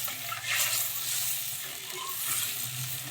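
Mustard and poppy seed paste sauce simmers in a pan of boiling water for mustard hilsa, a soft, steady bubbling hiss with faint scattered clinks, close and fairly quiet.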